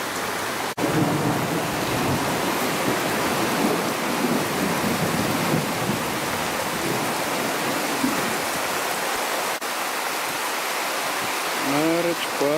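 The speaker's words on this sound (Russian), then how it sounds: "Только что где-то рядом ударила молния." Heavy rain pours steadily during an evening thunderstorm at a gazebo beside a fireplace at Naroch, Pasynki, with low rumbling thunder and a sharp crack from a nearby lightning strike. A faint voice is heard near the end.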